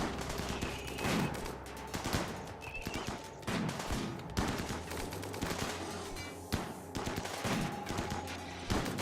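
Colonists in Rimworld fire on a Scyther in a stretch of repeated gunshots, sharp cracks in uneven bursts and volleys spread over several seconds, moderately loud with no talk.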